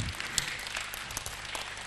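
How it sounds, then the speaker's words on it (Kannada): An audience claps at a festival closing ceremony, a steady dense wash of applause held at an even level throughout. "ಎಲ್ಲರಿಗೂ ಕೂಡ ಜೋರಾಗಿ ಚಪ್ಪಾಳೆ"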